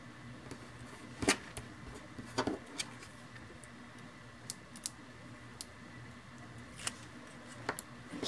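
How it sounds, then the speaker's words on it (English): Scissors cutting a strip of paper for a card-making project: a sparse series of crisp snips and clicks, fairly close and quiet against a faint steady hum, with no talking. "let me cut a strip."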